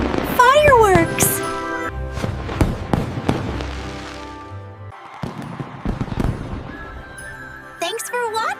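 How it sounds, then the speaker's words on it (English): Cartoon fireworks go off in several sharp pops and crackling bursts, mixed with whistling, sweeping tones and animated voices. "Oh, fireworks!"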